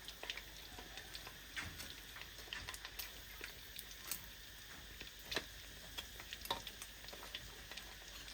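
Batter-coated chicken feet deep-fry in hot oil at a food stall, a continuous soft bubbling hiss broken by frequent sharp crackles and pops.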